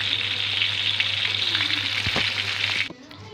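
Cleaned shrimp frying in hot oil for a jumbo shrimp balado, giving a loud, steady crackling sizzle close up that stops abruptly near the end, with no talking.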